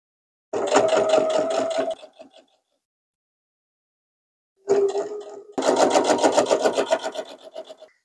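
Sewing machine stitching binding onto a quilt-as-you-go quilt, running in two bursts of rapid even stitching separated by a pause, close and fairly loud with no talking.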